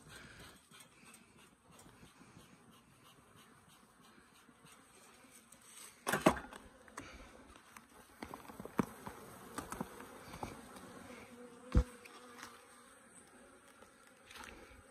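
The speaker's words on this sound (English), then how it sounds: "Let's get these bees back in this box." Low, steady buzzing of bees being put back into a hive box hums throughout, with occasional sharper knocks and clatters standing out midway and near the end.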